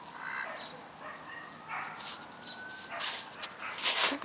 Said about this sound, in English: Some dog won't shut up.